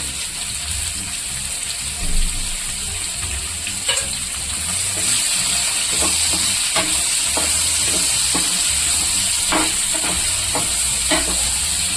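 Onions sautéing in oil with cumin for a Tamil chicken leg piece gravy, a steady close sizzle with occasional spoon scrapes and taps against the pan, no talk.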